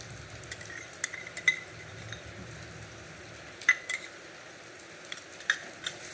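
Onion paste with green chilli, ginger and garlic sautés in a pan for fish curry, giving a low, quiet sizzle with repeated spatula scrapes and light metallic clinks at irregular intervals and no talking.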